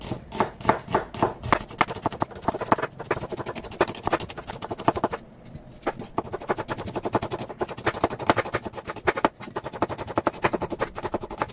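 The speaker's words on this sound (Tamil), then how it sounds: "முதல்ல வெங்காயத்தை வெட்டி எடுக்க போகிறேன்." A knife chops onions on a cutting board for a Batticaloa-style chicken curry, giving rapid, steady knocks that run on continuously, pause briefly midway, then resume at the same close, brisk pace.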